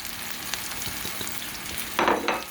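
Sliced bitter gourd sizzles in a hot pan while spices are stirred through it, a continuous close frying hiss with scraping strokes and a louder burst of sizzle near the end.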